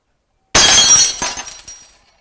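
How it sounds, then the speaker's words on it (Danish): A wine glass smashed indoors to test a home alarm, one sudden loud shattering crash followed by shards tinkling and scattering for about a second before silence. "Og så står jeg helt stille, og så smadrer vi et glas."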